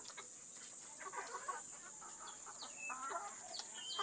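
Backyard chickens at feeding time give scattered clucks and short calls, faint and at a distance, over a constant high-pitched hiss.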